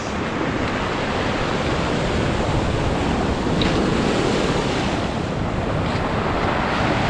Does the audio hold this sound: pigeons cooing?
no